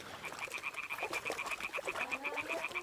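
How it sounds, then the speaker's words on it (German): A frog croaks repeatedly in the video game Kingdom Come: Deliverance 2, a steady run of quick, evenly spaced calls close by over a soft ambient background. "Der Frosch quakt."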